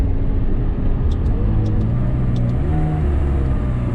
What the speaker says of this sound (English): makes it a little bit better in terms of the engine noise, but it's still not that great for a V8